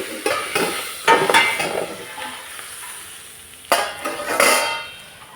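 Ghevda bean vegetable with chilli and salt being stirred in a pan: a spoon scrapes and clatters against the metal in a few uneven bursts over a soft sizzle, close and moderately loud, with no talking.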